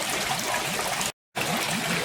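An Air 75 air pump bubbles and aerates the water of a koi pond being treated with potassium permanganate, giving a dense, continuous trickling wash broken by one brief gap of silence.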